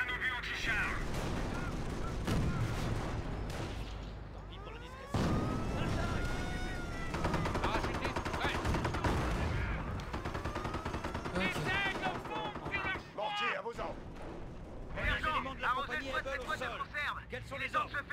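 Gunfire in the World War II strategy game Company of Heroes, during a night attack: dense rifle and machine-gun bursts with heavy booms rattle continuously. Voiced commands and battle chatter are heard over the shooting throughout.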